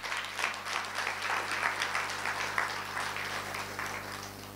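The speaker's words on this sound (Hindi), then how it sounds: "ताली बजाओ जरा अच्छी तरह से" A live audience claps steadily through a spiritual class at Pandav Bhawan, a dense, sustained patter of hands at moderate volume with a low hum underneath.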